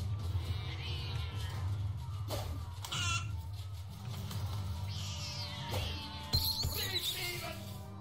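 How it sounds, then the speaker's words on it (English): Cartoon cats meow and caterwaul in the video game South Park: The Stick of Truth, several drawn-out yowls recurring over a constant low game soundtrack, with no talking. "Yes, butters, Nazi kitties"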